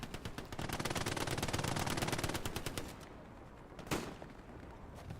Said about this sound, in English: Cooper on the MG.